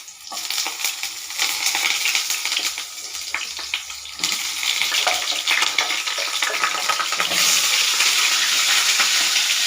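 Pointed gourd (potol) dropped into hot oil sets off a loud, dense crackling sizzle that swells and holds steady, with a few stirring clatters near the start.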